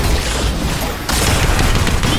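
Rapid gunfire from the Fortnite video game fills the moment: a loud, dense burst of shots that dips briefly, then resumes just as heavily.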